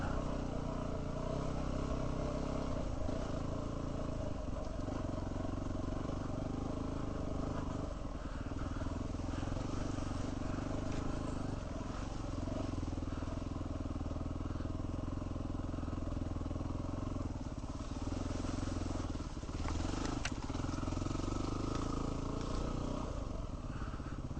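A small off-road vehicle engine runs steadily along a Utah OHV trail in the Arapeen area, a continuous mid-level drone with slight rises and dips, no sharp revving.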